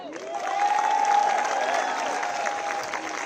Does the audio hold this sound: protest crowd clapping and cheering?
yes